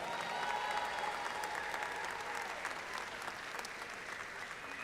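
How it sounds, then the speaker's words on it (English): An audience at a university summer commencement convocation claps in a large hall, a broad wash of applause that is strong at first and eases slightly toward the end. "That deserves a round of applause."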